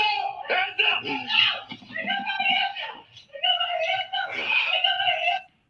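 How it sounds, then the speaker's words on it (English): A woman screams and wails in long, strained bursts during a police confrontation, loud and raw with brief breaks between cries. "So you got a female screaming."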